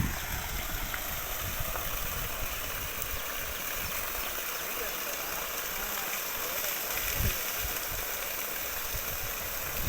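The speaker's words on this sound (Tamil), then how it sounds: "கிரவுண்ட்லேயே தான் இப்போ நம்ம மோட்ரு ஆன் பண்ணுறோம்" A 5 HP solar water pump motor runs steadily with a constant hum, delivering through a 2-inch outlet, mixed with a dense hiss like gushing or splashing water throughout.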